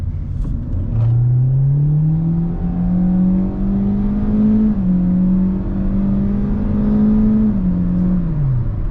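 The naturally aspirated 2.0-litre four-cylinder of a 2024 Hyundai Elantra base trim accelerates steadily from inside the cabin, its engine note climbing through two gear shifts with a loud, continuous drone and no talking.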